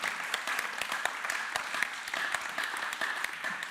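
Audience applause for a speaker taking the stage at a tech talk, a steady dense wash of many hands clapping that holds at an even level throughout.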